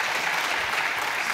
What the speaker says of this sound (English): Round of applause for Charlie and Sam